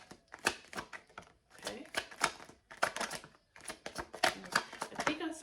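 Tarot cards shuffled and drawn during a reading, giving repeated bursts of crisp riffling and flicking in uneven clusters, close and moderately loud, with a brief spoken word among them.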